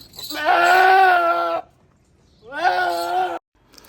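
A goat on a farm, upset during injections, lets out two long, loud, quavering bleats close by, with a short pause between them.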